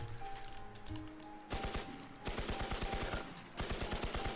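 Automatic gunfire in the survival shooter Infestation: Survivor Stories, heard as three fairly quiet bursts of rapid, evenly spaced shots, the middle burst the longest, with a steady tone under them.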